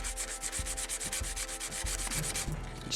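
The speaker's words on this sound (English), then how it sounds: "Time to sand everything back a little bit, because whenever you scribe or whenever you cut things, little burrs will start appearing." An emery board rubs back and forth across a scribed, cut plastic spaceship model, a close rhythmic rasping of quick even strokes that runs throughout with a soft knock at each turn, alone with no talk.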